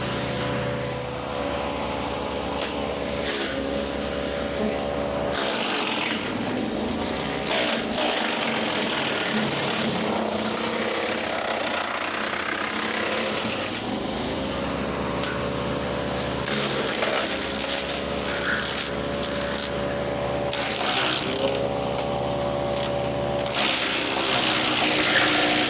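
A loud engine on a MechMaxx B200 wood chipper drones steadily and heavily throughout, its pitch and load shifting as a big branch is fed through and ground up.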